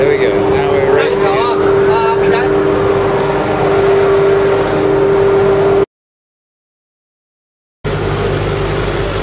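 A pump pushes ice slurry through a pipe in an ice pigging demonstration, a loud constant mechanical drone with a steady whine, running close and continuous under talk, cutting out completely for about two seconds before resuming.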